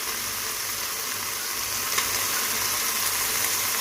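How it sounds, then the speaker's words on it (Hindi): Chicken sizzles in a pan, a steady close bright hiss and crackle of frying oil with no voices. "ये देखिए हमारा जो चिकन है वो फ्राई हो रहा है"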